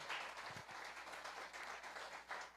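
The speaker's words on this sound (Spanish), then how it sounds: "démosle un aplauso, por favor" A church congregation applauds to welcome a visiting preacher, giving a short spell of faint, steady crowd clapping heard from a distance.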